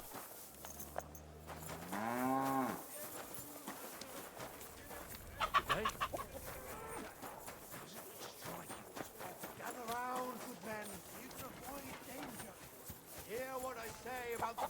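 A cow moos in Kingdom Come: Deliverance 2, standing near two horses, mixed with clucking chickens and other farmyard calls amid game ambience, with lowing calls recurring through the scene.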